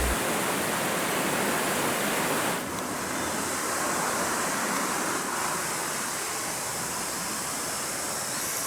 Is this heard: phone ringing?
no